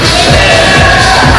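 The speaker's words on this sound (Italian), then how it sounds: "grande tifo di Grosso" Crowd cheering at a bocce relay final, a loud, dense roar of shouting and whooping spectators filling the whole brief moment.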